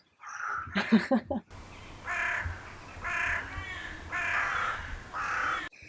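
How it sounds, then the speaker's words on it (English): Crows caw near a village church in Breb, Romania, giving four loud, evenly spaced harsh calls close by, after a brief spoken moment at the start. "There's a lot of like crows. Is that how you call those birds? Crows?"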